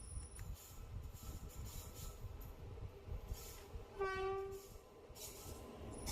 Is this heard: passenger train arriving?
yes